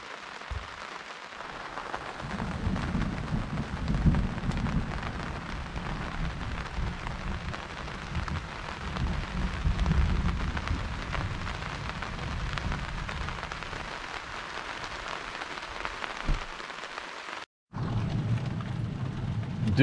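Rain from an electrical storm falling outside a small Casita RV trailer: a steady patter and drumming on the surface with low rumbling undertones, briefly cut off near the end before resuming.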